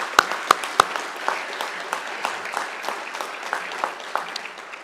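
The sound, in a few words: audience applause at a graduation ceremony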